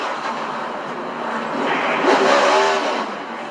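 A NASCAR race car at Martinsville roars at high revs from an onboard view, a continuous loud engine drone that rises slightly in pitch and intensity.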